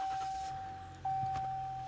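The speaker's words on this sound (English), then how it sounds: "Now let's go ahead and start the truck for the sake of the video." A 2023 RAM 1500 Limited with the 3.0L EcoDiesel V6 starting up, the engine cranking and catching midway into a low idle while a steady electronic chime sounds throughout.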